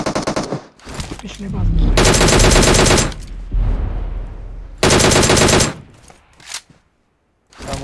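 Gunfire in PUBG Mobile, loud, long bursts of rapid automatic shots with a short gap between them, other game sounds in between, and a voice speaking briefly near the end.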